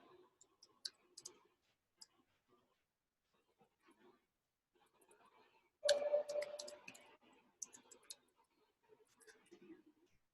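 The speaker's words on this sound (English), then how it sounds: "Amog, I'm just going to type it for you over here." Someone types on a keyboard in scattered, quiet clicks and ticks, with a denser burst midway where a voice also briefly speaks.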